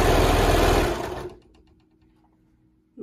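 A sewing machine stitches a laundry day tee in a loud, steady run of rapid needle strokes for about a second, then stops, leaving quiet clicks before a short burst of stitching starts again.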